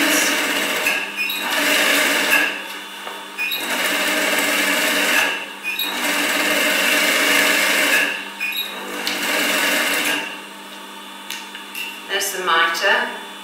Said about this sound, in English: Right, machine double row of stitches then.